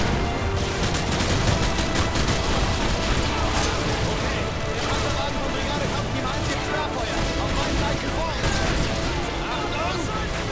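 Game gunfire from Modern Warfare 2, dense and continuous with rapid overlapping shots and mechanical clatter filling the whole stretch at steady loudness.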